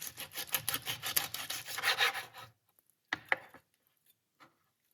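Knife cutting through a fresh whole chicken, a dense run of rubbing, rasping strokes for about two and a half seconds, then a pause and a couple of shorter scraping cuts, close and fairly quiet.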